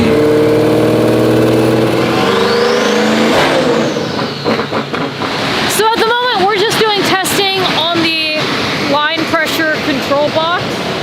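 A twin-turbo C8 Corvette built to around 1256 tire horsepower revs loudly under boost, its engine note rising for several seconds before people begin talking over the fading sound.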